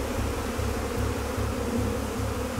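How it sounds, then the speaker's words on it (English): A dense swarm of bees hums steadily and loudly all around, with a continuous low buzzing and a pulsing texture that never lets up. "That's a lot of bees."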